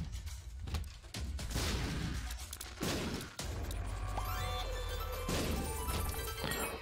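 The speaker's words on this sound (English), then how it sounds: "That was a very delayed explosion there." Dense, loud bursts of booming blasts and crashing debris from the video game The Binding of Isaac, with rapid gunfire-like cracks layered on a constant low rumble.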